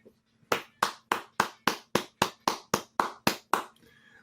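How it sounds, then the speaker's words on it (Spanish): Slow, evenly spaced hand claps, about twelve sharp strokes at a steady rhythm, close and fairly loud, given by a radio show host in the studio as a tribute to a guest who is a political candidate. "un aplauso para usted"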